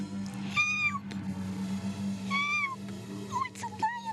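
A farm cat meows twice in clear, rising-falling calls, followed by a few shorter mews, close up over a steady low hum.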